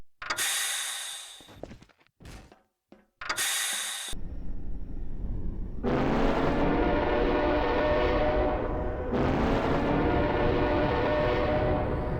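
Train riding with a horn: after a few sharp breathy bursts and gaps, a loud, sustained horn blast sounds, then a second long horn blast over steady rail rumble.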